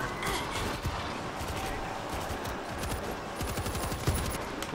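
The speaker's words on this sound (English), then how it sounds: "Wait, mortar. I got this mortar." Rapid gunfire and explosive blasts from a mortar and other weapons in the zombie shooter game World War Z, set in Tokyo, forming a dense continuous barrage, with players talking over it.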